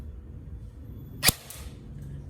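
A single sharp, snappy report from an HK G28 Umarex airsoft rifle, fired once against a quiet background, with a faint brief echo trailing after it.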